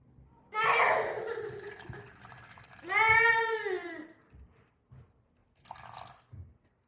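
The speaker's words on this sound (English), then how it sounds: "And then we are going to add half a cup of water first." Water pours and splashes into a pot in two short bursts, with a rising gurgle as it fills, then a few light clinks and drips.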